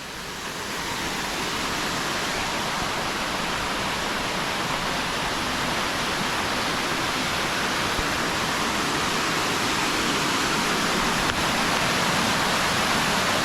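A mountain stream runs beneath and between rocks with a steady, full rushing roar that stays constant throughout, close by, with no voices.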